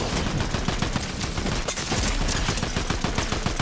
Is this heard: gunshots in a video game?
yes